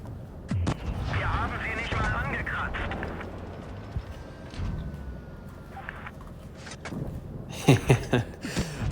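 Tank cannons firing in the mobile game World of Tanks Blitz, with IS tanks battling Panzer IVs: heavy booming shots, one early and a louder cluster near the end, under steady continuous commentary.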